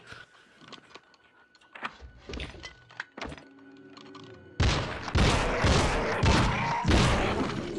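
Game gunfire at vampires and ghouls in Nosferatu: Wrath of Malachi: a few sharp thuds and clanks early on, then a loud, dense burst of shots and impacts over the last few seconds.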